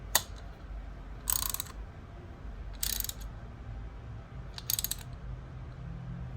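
A ratchet wrench tightens a bolt on the front cylinder head of a Harley Street Glide, three short bursts of rapid clicking spaced a second or two apart, close and crisp over a quiet room hum.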